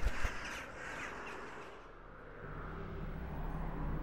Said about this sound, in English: The distant calls of magpies and crows occasionally break the gentle rustling of the wind.